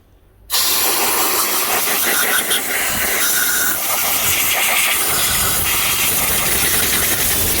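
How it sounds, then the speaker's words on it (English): Compressed air from an air compressor blasts into a DeWalt miter saw to clear debris packed around a jammed angle-lock lever. After a brief quiet start, a loud, steady, close hiss runs without a break to the end. "All you have to do to fix it is just clean it. Air compressor works the best."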